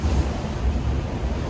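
Steady rushing wind and churning water roar continuously, close and loud, with no voices, aboard a sailboat racing near Fastnet in the Bermudes 1000 Race.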